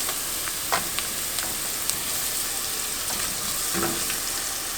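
Pizza sauce simmers and sizzles in a pan as onion powder is stirred in, with a constant bubbling hiss and a few faint utensil taps and scrapes, and no talking.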